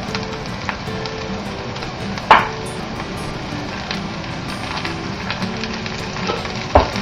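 Onions sauté in a pan with a steady close sizzle and soft crackle, broken by two sharp utensil clanks against the pan, with faint background tones underneath.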